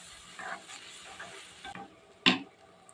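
Pasta in a pan being stirred as milk is poured in, with a soft continuous sizzle and scraping, then one sharp, louder clack of the spoon against the pan near the end.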